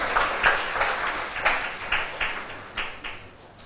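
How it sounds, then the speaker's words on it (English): Small audience at a three-minute thesis competition claps sparsely for the participants, with distinct separate handclaps rather than a dense roar, fading gradually over a few seconds. "a big round of applause,"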